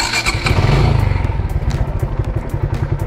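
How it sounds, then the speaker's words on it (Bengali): A motorcycle with a knocking engine fault starts and idles loudly up close, a rough rumble with a regular pulsing beat and some clattering. "বাইকের বেশ কিছু সমস্যা হয়েছে, বাইকটা স্টার্ট করলে হয়তো বুঝতে পারবেন।"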